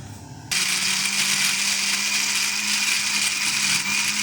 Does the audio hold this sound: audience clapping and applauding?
no